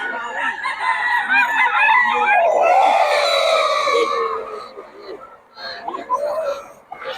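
A rooster crows loudly up close among other clucking chickens at a farm, with a voice talking over the barnyard noise.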